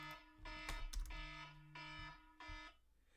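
An alarm set as a workout reminder sounds in repeated electronic tone bursts, a steady pulsing pattern that is fairly faint and carries no speech.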